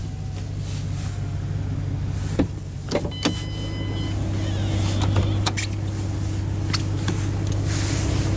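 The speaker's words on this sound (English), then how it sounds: "But now we'll roll down the driver's window and have a look at the engine bay." Driver's power window on a 2006 Ford Mustang GT Premium coupe rolling down, a steady electric motor whine with a faint mechanical hum and a few clicks and knocks, close and fairly quiet throughout.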